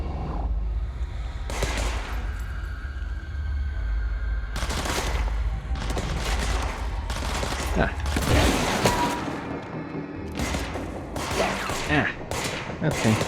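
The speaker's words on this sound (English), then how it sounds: "They're still shooting at me." Gunfire in the video game Control, with loud bursts of rapid shots and booming impacts in repeated clusters over a constant low rumble, and a voice speaking now and then between the volleys.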